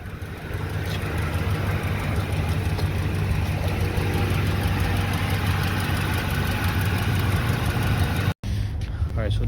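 A 2009 Ford E250 van engine idles after a starter replacement, a steady close-up mid-pitched rumble that runs continuously with a momentary cutout near the end, and a voice talks over it.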